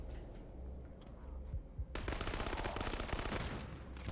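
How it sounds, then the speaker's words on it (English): Shotgun fire in the horror game Krankenheit: a loud burst breaks in partway through and continues as dense rapid gunfire, preceded by a few softer thumps and muffled game noise. "Oh, it's a shotgun."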